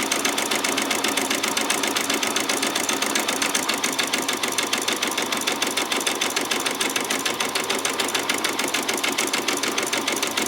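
A sewing machine runs a back stitch on a peasant top, its needle clattering in a fast, even, unbroken rhythm close by, with no voices.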